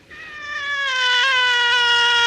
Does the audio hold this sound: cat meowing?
yes